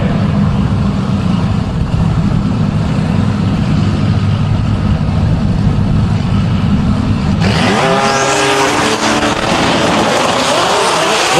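A black Nissan GT-R drag car with neon green accents and beadlock wheels rumbles loudly at idle, then launches hard with a rising engine roar climbing through the gears at a drag strip.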